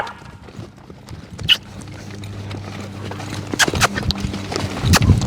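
A horse lopes in an arena with soft, irregular hoofbeats on the footing, rising and growing denser toward the end over a low background rumble and scattered thuds.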